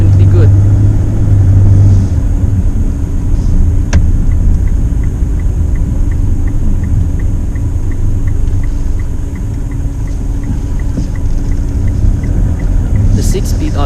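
A 2019 Mitsubishi Strada GLS 2WD diesel pickup engine accelerates, a loud steady low rumble inside the cab with a faint rhythmic ticking through it.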